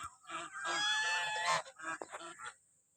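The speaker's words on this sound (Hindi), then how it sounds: "पानी में बतखें नहा रही हैं" Ducks bathing in a pond call out in close, loud, nasal honking quacks, a sustained run of calls followed by a few shorter, scattered ones before fading.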